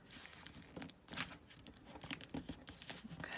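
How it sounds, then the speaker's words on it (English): A paper envelope being folded by hand gives off faint crinkling and rustling, with a sharper crisp rustle just past one second and a few softer crinkles afterward. "And then I'm just gonna do a little fold up here."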